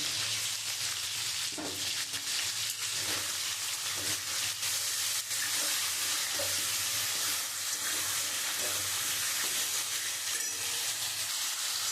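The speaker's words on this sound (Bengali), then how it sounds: "আমি সব মশলাই একবারেই ঢেলে দিয়েছি আমার মশলাটা দিয়ে আমি খুব সুন্দর করে কষিয়ে নিয়েছি" Spice paste for a Bengali fish curry fries in a pan, giving a loud, continuous hissing sizzle with faint intermittent scrapes and clicks, and no voices.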